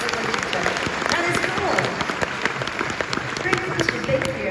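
A convention panel audience breaks into steady, dense applause for a few seconds, with a voice heard over the clapping.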